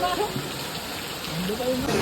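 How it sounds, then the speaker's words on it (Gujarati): Steady hiss of rain falling at Gira waterfall near Saputara hill station, with faint voices in the background. "વરસાદ હજુ ચાલુ છે"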